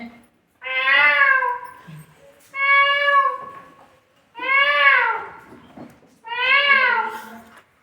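A voice imitates a cat, giving four drawn-out meows at an even pace with short silences between them.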